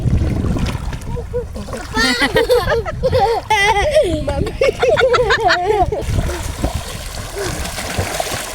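People splash and play in river water at Munippara, with irregular sloshing and splatter under lively shouting and talking voices close by.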